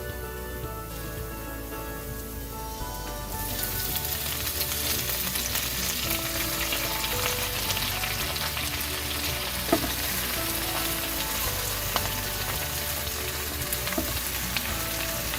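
Chopped bok choy with softened garlic stir-frying in a hot pan for a vegetarian Chinese dish with soy sauce, a loud, dense, steady sizzle that jumps up a few seconds in as the greens hit the oil, with occasional clinks of stirring.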